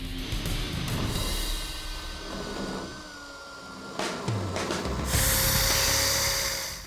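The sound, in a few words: power tool slicing up car roof panel metal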